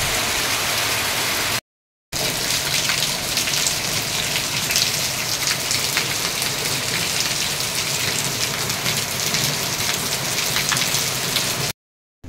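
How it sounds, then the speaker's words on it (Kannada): Heavy rain pours down on a farm garden, a dense, loud, even roar of drops on surfaces that runs continuously with only brief breaks. "ಎಷ್ಟೊಂದು ಮಳೆ ಆಯ್ತು ನೋಡಿ"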